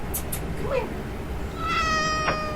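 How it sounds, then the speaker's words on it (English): A pet cat lets out a brief muffled sound and then a clear, drawn-out meow in the second half, close by over a steady background hum. "Gotta touch him and he'll meow"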